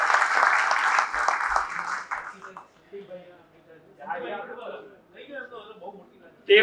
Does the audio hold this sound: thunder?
no